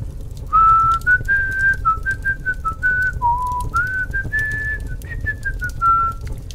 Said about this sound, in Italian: fischiettando un motivetto del tempo di guerra